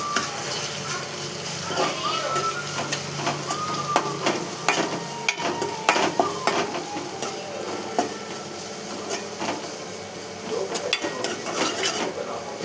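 Ginger paste and turmeric fry in a pan with a continuous sizzle, and a spoon stirs and knocks against the pan now and then, close, with no speech.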